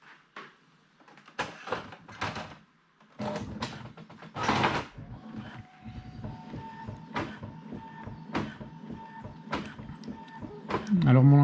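A home colour printer running through a page, with mechanical whirring, repeated clicks and a sliding carriage rhythm, moderately close, ending in a louder feed noise.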